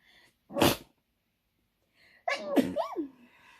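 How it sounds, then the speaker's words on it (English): Two close, loud sneezes, a short one first and then a longer, drawn-out sneeze with a voiced tail, separated by quiet. "So I just sneezed twice."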